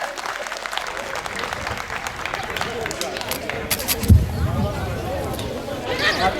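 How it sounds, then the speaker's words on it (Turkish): An audience claps for folk singer Merdan at a Hıdırellez celebration in Tekke village, scattered clapping mixed with crowd murmur and voices, swelling slightly toward the end. "Güzel bir alkış rica ediyorum"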